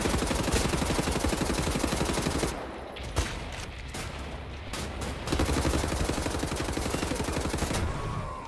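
Rapid gunfire from the video game Wolfenstein: The New Order rattles loud and close in dense automatic bursts. It thins to scattered shots briefly midway, then resumes at full intensity.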